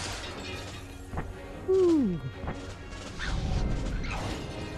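An object is flung and smashed against glass in Star Wars: The Force Unleashed, a loud crash with a descending tonal sweep, followed by rumbling game ambience and scattered impacts.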